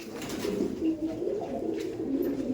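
An imported Giribaj pigeon coos in soft, low, rolling repeated notes, close and continuous throughout.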